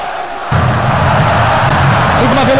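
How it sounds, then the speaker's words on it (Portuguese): Stadium crowd in the Bomba Patch football video game on PS2, a loud sustained roar of shouting fans that swells abruptly after a quiet opening and holds steady at close range. "A torcida já gritou com ele."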